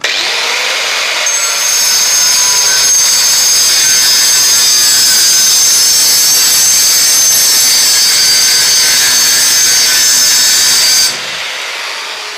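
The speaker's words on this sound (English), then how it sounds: "we're going to cut this tubing. It's 1 inch by 1 inch and it's about 1/8 thick" A Graff diamond cutoff wheel slices through 1 by 1 inch steel tubing about 1/8 inch thick, a loud continuous high-pitched grinding whine with metallic screech that holds steady for about ten seconds, then drops as the cut finishes.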